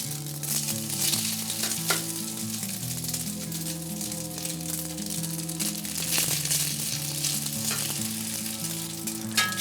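Saffron noodle mixture fries in melted butter in a pan, giving a steady, close, loud sizzle with crackling throughout and occasional stirring scrapes, while a low musical hum runs beneath.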